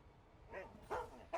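A dog barks during an online card game, giving three short, muffled yips spaced out over a low background, quiet and somewhat distant.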